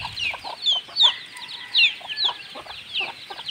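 Native chickens and young chicks cluck and peep on a farm, with repeated soft high chirps from the chicks over lower clucks from the hens, fairly close, with no talk.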